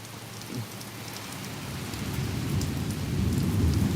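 Heavy rain pours down steadily in a thunderstorm, a dense hiss that builds louder over a few seconds as a low rumble and wind rise underneath.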